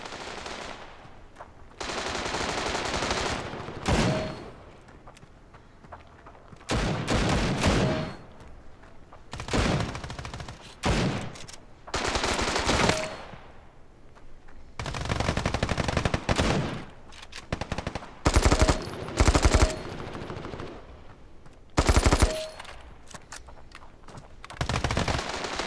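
Gunfire in the mobile shooter Standoff 2, including a Desert Eagle pistol, loud bursts of rapid shots with gaps between exchanges, repeated across a long firefight.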